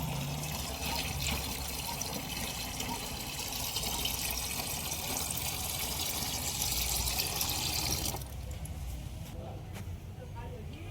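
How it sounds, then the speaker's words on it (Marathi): Water drains off settled wheat starch in a steady, continuous pour that splashes and trickles for several seconds, then drops to a quieter dribble near the end. "याचं वरचं पाणी टाकून घेऊ."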